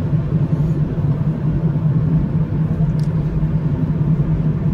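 Inside a car cruising steadily on a highway, a constant low road rumble and engine drone hold even throughout, with no speech.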